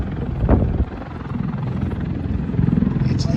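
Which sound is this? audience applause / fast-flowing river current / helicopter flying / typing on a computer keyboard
helicopter flying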